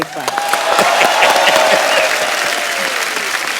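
Studio audience at a Kapil Sharma comedy show with Udit and Alka applauding, a dense, steady wash of clapping that carries loudly through the whole stretch without a break.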